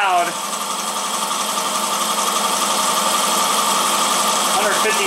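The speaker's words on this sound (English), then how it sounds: "The motor, it's boogieing." The motor of a benchtop horizontal mill runs loudly and steadily at speed, giving a continuous whining hum throughout with no pauses.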